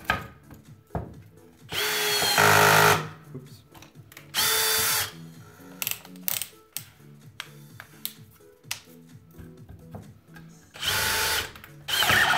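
A handheld power drill drives a wood drill bit in three loud, harsh bursts, with clicks and handling noises in the quieter gaps between them.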